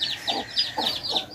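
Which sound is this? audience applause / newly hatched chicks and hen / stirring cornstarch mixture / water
newly hatched chicks and hen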